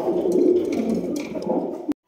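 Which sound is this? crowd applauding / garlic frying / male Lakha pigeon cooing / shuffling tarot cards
male Lakha pigeon cooing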